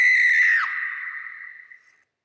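A phone's text message alert plays a recorded blood-curdling scream, one loud shrill wail that bends downward and then trails off over about two seconds.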